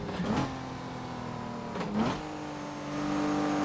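A DeLorean engine in a racing video game whines steadily, with two quick rev dips and pitch jumps as gears shift, then settles into a louder, higher drone.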